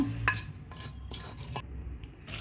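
Roasted dry red chillies are scooped from a pan into a mixer jar, giving a handful of scattered scrapes, light clinks and rustling taps at close range, quiet and without talk.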